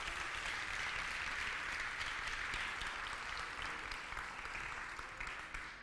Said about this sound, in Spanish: un aplauso para don Fernando Navarro